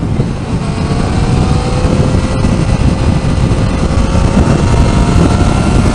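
A 2019 Yamaha Niken three-wheeled motorcycle pulls away through its gears on the road, its engine drone rising steadily under heavy, constant wind rush close to the rider.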